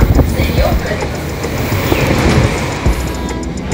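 A fast local train on the Barddhaman to Howrah line makes a loud, continuous rushing rumble with rattling from the carriage and faint rhythmic clatter underneath.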